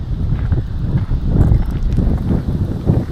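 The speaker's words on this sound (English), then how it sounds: "We've been getting hit with brutal winds" Strong spring wind gusts buffet an open spot outdoors, coming in uneven surges of low, rough roaring against the microphone.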